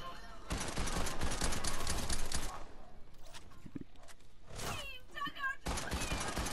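Rapid automatic gunfire bursts in Fortnite, loud and dense for a couple of seconds, then scattered shots, thuds and effects, with another heavy burst of fire at the end.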